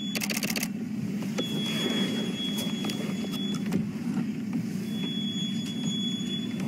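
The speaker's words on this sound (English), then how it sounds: "So that high-pitched noise you're hearing is just another vehicle moving. It's their brakes." Brakes on another safari vehicle with sand in them give a thin, steady high squeal that runs through most of the clip, faint and some way off, over a low rumbling engine drone and scattered knocks.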